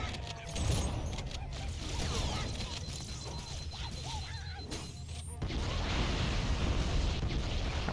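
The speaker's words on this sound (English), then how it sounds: "Lots of explosions." Explosions and bursts of combat noise in the Halo video game, a dense rumbling mix of blasts and mechanical clatter with a few brief tones, steady and moderately loud throughout with a swell near the end.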